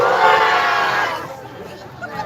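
A crowd at a KPU Maros election jingle event cheers and shouts loudly for about a second, then fades into softer murmuring and scattered voices.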